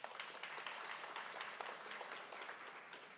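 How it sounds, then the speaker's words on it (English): An audience at a civic announcement event applauds with sustained, dense clapping that holds steady throughout, heard from within the crowd. "Round of applause for all of the speakers that have spoken to this point"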